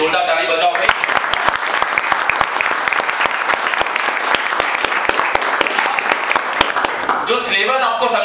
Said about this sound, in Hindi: हम स्टूडेंट सबसे पहले एक बार खुद के लिए जोरदार ताली बजाओ भाई